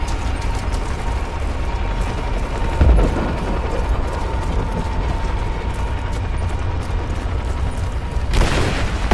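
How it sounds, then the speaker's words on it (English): Gunfire in the Rise of the Tomb Raider video game: two sharp, loud shots several seconds apart over a constant hiss of game ambience. "Gunshot!"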